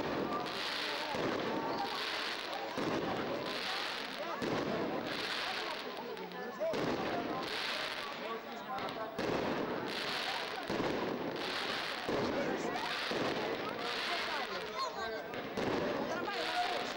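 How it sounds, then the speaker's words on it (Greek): Fireworks burst over a Greek village during the Easter Resurrection service, rapid repeated bangs and crackles in waves, with people talking throughout. "τα βεγγαλικά ρίχνονται συνέχεια φωτίζοντας τον ουρανό του χωριού"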